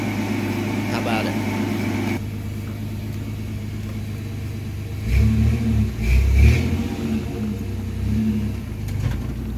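A 1992 Chevy S10 pickup with a 2.8 engine and 5-speed manual rumbles on a test drive, idling steadily before two surges of revving acceleration, heard from inside the cab.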